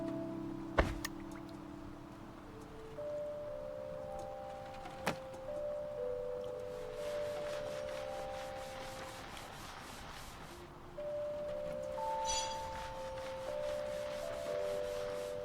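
A washcloth wipes surfaces in the cleaning video game Undusted, producing soft rubbing swipes under gentle synthesized musical tones, with a couple of sharp clicks near the start.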